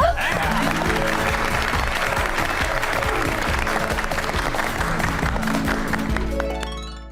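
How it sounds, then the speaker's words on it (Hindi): Applause for Babita as she comes onto the stage, dense clapping mixed with music that fills most of the stretch and then fades out near the end, with a sustained low tone. "बबीता जी के लिए जोरदार तालियां।"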